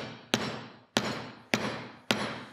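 A hammer drives a socket to tap a ceramic bearing into a BMX bicycle: four sharp, evenly spaced metallic knocks, each ringing briefly before the next, close and clear.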